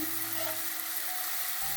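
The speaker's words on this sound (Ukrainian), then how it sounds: "на сковородці у нас обжарюється тут усе м'ясо" Steady broadband sizzle of meat frying in a hot pan, continuous and close, with a low hum entering near the end.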